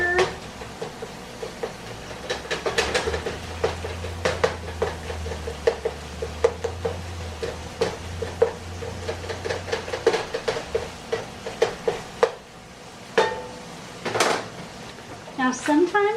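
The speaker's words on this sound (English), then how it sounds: "Now we will stir the hamburger" Hamburger meat being stirred in a pan for cabbagegetti, with repeated clinks and scrapes of a utensil against the pan over a low background rumble and no talking.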